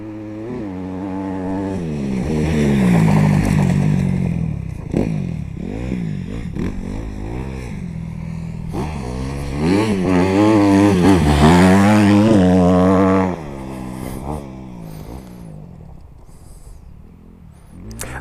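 A skilled rider on a Honda CRF450 dirt bike, the engine revving hard and rising and falling in pitch through repeated accelerations, loud and fairly close, with a quieter stretch near the end.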